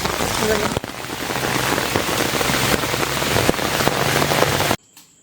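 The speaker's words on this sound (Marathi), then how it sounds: "पाऊस आमच्याकडे भरपूर लागतो आहे आणि एकदम थंड पाऊस आहे" Heavy, cold rain falls in a steady, dense wash close by, drumming on surfaces with occasional sharper drops, then cuts off abruptly near the end.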